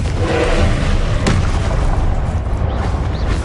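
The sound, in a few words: Confringo spell explosion in wizarding video game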